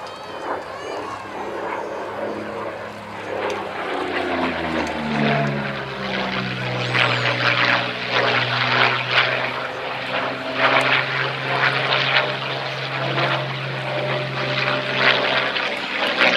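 A Yak-3 warbird fighter flies past with its piston engine and propeller droning loud and steady at an air display, the pitch sliding downward as it passes.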